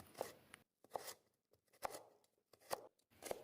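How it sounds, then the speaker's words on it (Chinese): A knife cutting carrot into thin slices and strips on a cutting board, five crisp, evenly spaced chops close by at a slow, steady rhythm with quiet pauses between strokes. "先把胡萝卜切成薄薄的片状，再切成长条"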